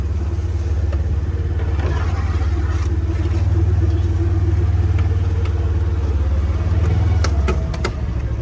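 A vehicle rolls down a hill on a farm pasture, its engine giving a steady low rumble that stays close and even throughout, with a slight swell midway.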